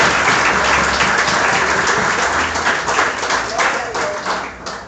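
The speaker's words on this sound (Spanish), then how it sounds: "aplaudan al Señor de la obediencia" A church congregation breaks into loud, close applause that fills the room, then gradually thins and fades toward the end.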